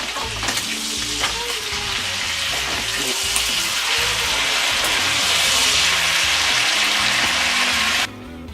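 Chuck meat fries in a hot pan with a loud, steady sizzle and crackle, interrupted by stirring and flipping clatter, then suddenly drops quieter near the end.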